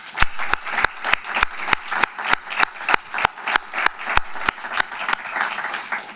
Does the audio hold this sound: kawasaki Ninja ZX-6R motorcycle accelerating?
no